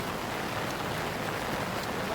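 Heavy rain pours onto an outdoor football pitch during a youth match, a dense, steady hiss of drops with no break and no voices standing out.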